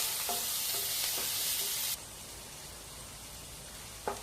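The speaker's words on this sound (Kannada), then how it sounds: "ಹೈ ಫ್ಲೇಮ್ ಮಾಡ್ಕೋಬೇಡಿ, ಮೀಡಿಯಂ ಫ್ಲೇಮಲ್ಲೇ ಇಟ್ಕೊಂಡು ಗೋಲ್ಡನ್ ಬ್ರೌನ್ ಆಗೋ ತನಕ ಫ್ರೈ ಮಾಡ್ಕೊಳ್ಳಿ" Chicken liver with turmeric frying in a pan over a medium flame, a steady close sizzle that drops to a quieter hiss partway through, with a few soft stirring taps.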